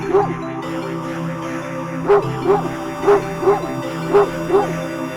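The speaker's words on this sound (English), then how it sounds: "a series of excited barks jerks your gaze forward and see a large dog sprinting towards you" A dog barks repeatedly in short, evenly spaced yips, excited and fairly close, over a steady background hum.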